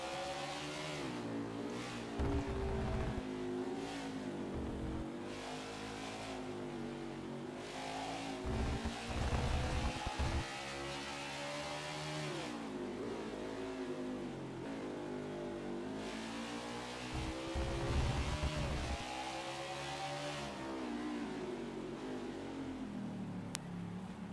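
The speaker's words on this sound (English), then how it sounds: "All 40 cars still out on the racetrack as well." Race cars roar around a road course in the NASCAR 21: Ignition video game at COTA, engines revving and shifting in a steady, loud drone with occasional tire squeal.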